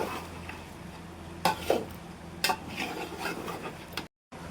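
Potatoes and pangas fish heads stir-fried in a pan, with a steady low sizzle and a spatula scraping the pan, marked by a few sharper scrapes and clinks close by.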